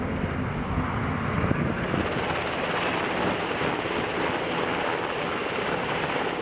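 A helicopter hovers nearby during vertical replenishment of a ship at sea, its rotor and engine producing a loud, constant wash of noise mixed with wind buffeting.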